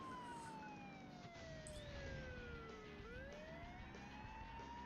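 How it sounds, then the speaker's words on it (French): Police car siren in the racing video game Burnout 2: Point of Impact, a wailing tone sweeping down and back up over a constant low engine roar, faint and without speech. "Ce que j'adore avec cette voiture, c'est le fait d'utiliser les sirènes."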